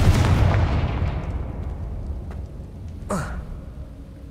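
An explosive Confringo spell is cast in the video game Hogwarts Legacy. A loud burst opens the clip and rumbles away over several seconds, then a sharp, brief crack with a whoosh follows near the end.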